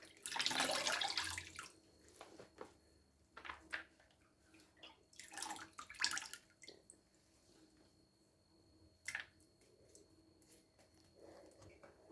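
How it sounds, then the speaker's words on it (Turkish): Freshly picked mallow leaves are rinsed by hand under running water, with splashes and swishing that come in bursts over a soft background trickle, close and fairly quiet. "Şöyle arkadaşlar otumuzu güzelce yıkadım."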